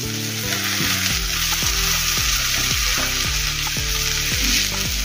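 Grated potato drops into a hot frying pan and sizzles loudly and continuously, with repeated scraping strokes of a spatula stirring it in a steady rhythm and no voices.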